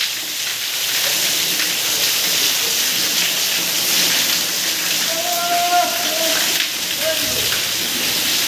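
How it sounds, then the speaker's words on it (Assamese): Heavy night rain pours down steadily as a broad, constant hiss, loud and close, with faint tonal sounds briefly rising beneath it. "বৰষুণ কেতিয়া কমে ঠিক নাই আৰু।"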